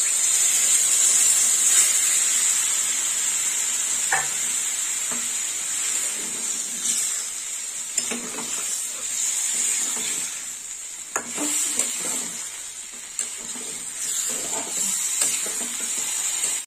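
Water hitting a pan of sautéed bottle gourd and fish-head masala, giving a loud steady hissing sizzle with occasional scraping stirs throughout, and no talking.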